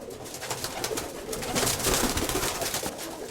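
Pigeons coo in a loft, soft low throaty calls rising and falling over a steady background murmur of birds.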